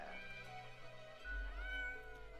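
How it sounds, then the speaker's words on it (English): A game cat gives a drawn-out, wavering meow that rises and falls, heard on its own and fairly faint over a low, sustained musical background. "Meow, the cat replies absentmindedly."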